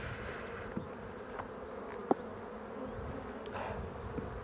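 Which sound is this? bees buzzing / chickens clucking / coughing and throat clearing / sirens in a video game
bees buzzing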